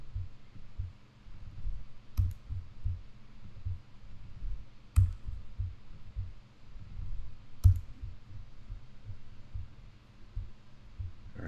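Three sharp, isolated computer mouse clicks a few seconds apart over a low, murmuring hum while a blog post is built in WordPress.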